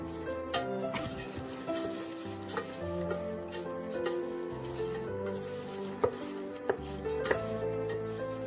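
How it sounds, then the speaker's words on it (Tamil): Roasted gram being fried in a pan for masala pori, with continuous scraping and stirring, a light sizzle and a few sharp clinks of the spoon against the pan, close and steady. "இப்போ நம்ம பொட்டுக்கடலை ஆட் பண்ணிக்கிட்டு அதே போல் ஃப்ரை பண்ணிக்கலாம்."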